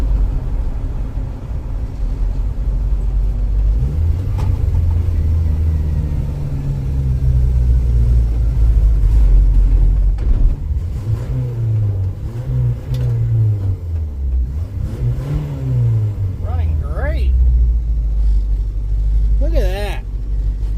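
A $500 Isuzu Trooper 4x4 engine rumbles low and steady while driving and has trouble shifting into fifth without high revs. Someone talks over the drone, and the engine swells and dips in pitch.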